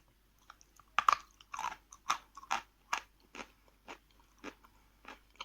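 A piece of Barsuk chalk of medium hardness is bitten and chewed up close, giving a dozen crisp crunches in an irregular rhythm, loud against a quiet background.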